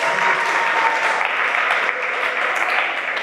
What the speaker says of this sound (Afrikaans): So, gee hom 'n lekker klap,